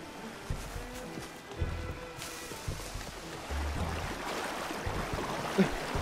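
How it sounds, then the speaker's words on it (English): Rushing river water near a waterfall in Red Dead Redemption 2 forms a steady, moderately loud roar, with occasional low thumps and swells mixed in and no voices. "There's a waterfall here!"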